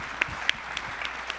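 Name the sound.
conference audience applause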